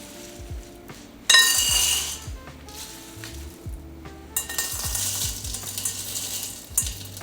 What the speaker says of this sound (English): First, we're gonna put these beans in the bowl.